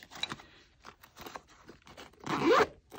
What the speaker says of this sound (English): And it zips up.